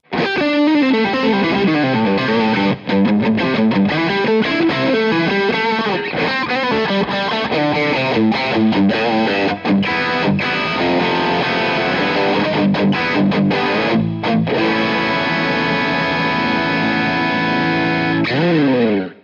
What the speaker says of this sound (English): And now let's stack these two drive pedals, the antique going into the plexitone.